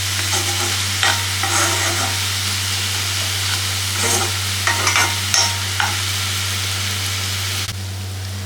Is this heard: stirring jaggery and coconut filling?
yes